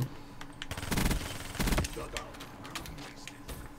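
Vesper submachine gun in Black Ops 3 firing rapid full-auto bursts, two loud chattering strings about a second long each, followed by scattered shots and game noise.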